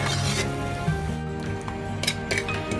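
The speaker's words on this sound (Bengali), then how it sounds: "এটা আমি স্লো টু মিডিয়াম রেখে ক্রমাগত নাড়িয়ে নাড়িয়ে রান্না করছি।" A utensil clinks and scrapes in a pan while methi malai chicken cooks over slow to medium heat, soft intermittent tapping and faint sizzling, close and quiet, no talking.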